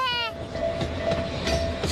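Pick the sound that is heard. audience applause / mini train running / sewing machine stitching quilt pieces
mini train running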